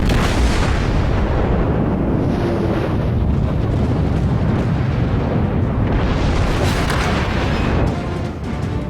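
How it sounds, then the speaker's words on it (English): Naval gunfire in the World of Warships game, with a Mutsuki destroyer engaging a reversing Wyoming battleship: loud, dense booming salvos and rumbling blasts fill the whole span without a break, easing only in the final second. "we will take our shots at this reversing Wyoming"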